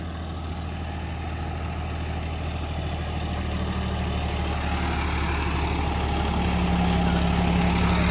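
A John Deere tractor works a field pulling an 8-foot rotavator, its diesel engine droning steadily and growing slightly louder, with a constant low rumble and churning mechanical noise throughout.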